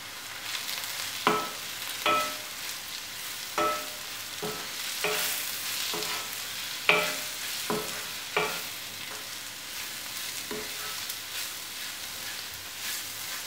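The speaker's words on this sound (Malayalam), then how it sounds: "പൊടികളുടെ പച്ചമണം മാറുന്നത് വരെ ഒന്ന് വഴറ്റാം" Spice powders sauté in a pan for a Kerala chicken curry, a soft continuous sizzle broken by repeated sharp scrapes of a spoon stirring against the pan, with no talking.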